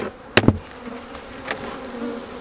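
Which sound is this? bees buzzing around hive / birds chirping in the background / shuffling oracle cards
bees buzzing around hive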